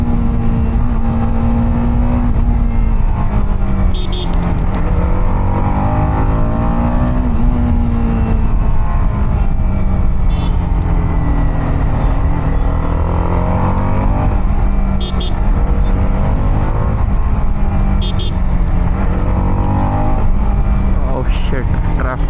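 A TVS Apache RR310 motorcycle ridden in a lower gear, its engine a loud, steady low drone that rises and falls in pitch as the throttle changes, heard up close with wind rush throughout and faint chirps on top.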